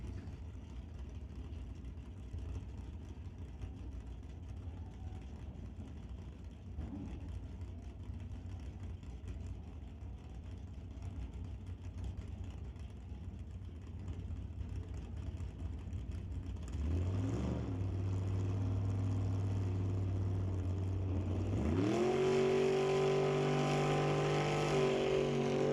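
Drag race cars, among them a 1966 Nova, run at a drag strip: a steady engine rumble builds, then loud revving and a rising roar as the cars launch and accelerate close by, with no talking.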